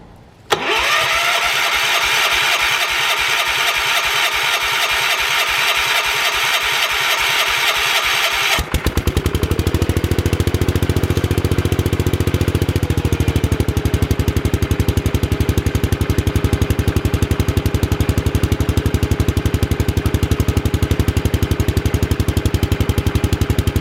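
An old tractor with a Kohler K-series single-cylinder engine, recently fitted with a fresh spark plug, cranks briefly and then fires up, settling into a loud, steady close-up idle that runs on unbroken with no talking.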